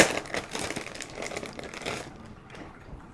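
Paper wrapping crinkles and rustles as it is pulled off a discount-store accessory, a busy close crumpling for about two seconds that then fades to quiet handling.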